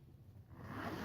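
A pocket zipper on an Osprey Celeste bag is pulled open in one quick, close, rising rasp lasting about a second, alone and fairly quiet.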